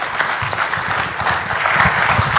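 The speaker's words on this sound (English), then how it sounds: "I think we all would like to express to you very loud applause and vote of thanks for your leadership" Audience at a meeting applauding loudly, a dense steady patter of many hands clapping throughout, close and continuous with no speech.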